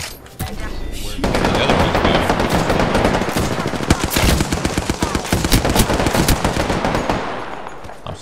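Rapid automatic gunfire from a first-person shooter match in Apex Legends, with sustained bursts and dense close shots, under a brief excited voice.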